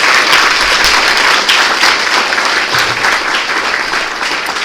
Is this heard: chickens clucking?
no